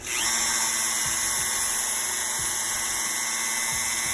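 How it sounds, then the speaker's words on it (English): Dremel rotary tool whining at a steady high pitch while sanding down a plastic Marvel Legends action figure ankle part, close and loud throughout with faint rhythmic contact bumps. "I use this on my bigger Dremel. And so what we're gonna wanna do here is first get the camera to stop shaking"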